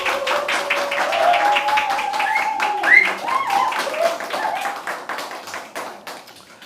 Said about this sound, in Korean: 목사님을 환영하는 마음으로 따뜻한 박수로 맞아주시기 바라겠습니다